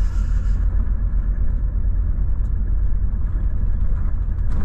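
A Volvo FH 540 truck rolls along a worn gravel highway in Yakutia, its engine and tires making a steady, loud low rumble from inside the cab with no talking.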